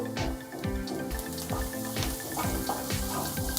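Onions sizzle and soften in a pan with a little coriander leaf, a steady close crackle with soft repeated knocks, no talking.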